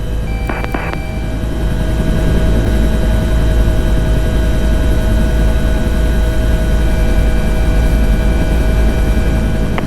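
A Bell Cobra helicopter flying an airshow display roars loud and steady throughout, its rotor and engine drone filling the scene with a constant thrumming wash and no speech.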